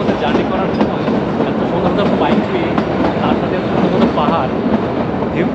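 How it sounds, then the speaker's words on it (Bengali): Kalka-Shimla narrow gauge toy train running through hills, a loud steady rumble with rhythmic wheel clatter on the rails, close and continuous throughout. "টয় ট্রেনের মধ্যে জার্নি করার সময়"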